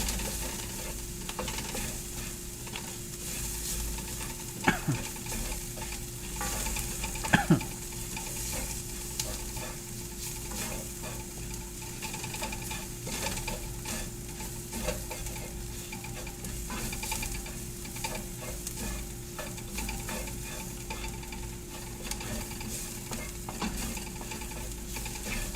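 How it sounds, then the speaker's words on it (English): Flour is stirred into melted butter in a frying pan, making a steady, close sizzle with continuous scraping from the spoon and a couple of sharp knocks against the pan. No one talks. "I'm going to add now a tablespoon of flour. I'm going to try to add it kind of slow and keep mixing it."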